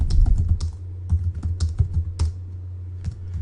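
Fingers type on a computer keyboard in quick, uneven bursts of close, crisp key clicks, with a short pause before a final few presses.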